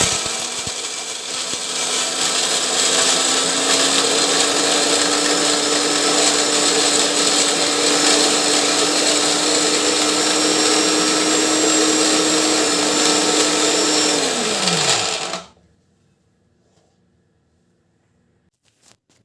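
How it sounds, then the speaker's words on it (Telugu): A mixer grinder grinding coconut whirs loudly and steadily for about fifteen seconds, its motor whine holding a constant pitch before winding down and stopping into near silence. "ఇక్కడ కొబ్బరి అదైతే నేను మిక్సీ పట్టేశాను"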